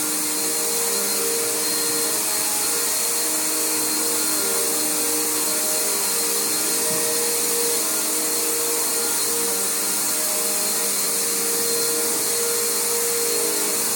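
A Bissell Powerforce bagged vacuum cleaner runs with a loud, steady motor roar and airflow rush that holds unchanged throughout, with no voices.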